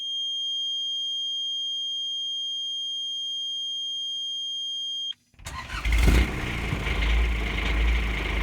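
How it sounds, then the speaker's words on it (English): A Kubota diesel engine fitted in a Saturn car cranks and fires up after a few seconds of quiet electronic tones, then settles into a loud, rough idle close by. "Let's start the engine and see if the tachometer and the alternator work."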